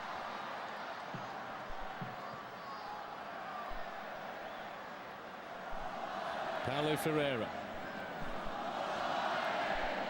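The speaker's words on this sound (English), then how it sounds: "The cheering and chanting for every pass, every flick." Portugal fans at a Euro 2008 qualifying football match against Belgium keep up a steady distant roar of cheering and chanting, with a commentator talking over the stadium crowd throughout.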